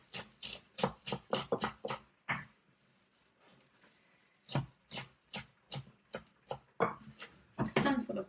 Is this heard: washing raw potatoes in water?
no